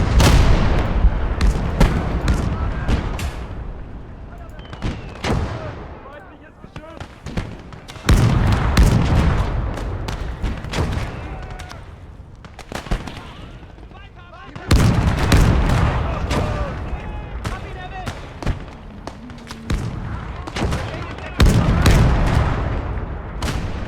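A World War II battle in a video game set during the Fall of France: dense, loud bursts of artillery booms and rattling gunfire that come in waves, with brief lulls between heavy barrages.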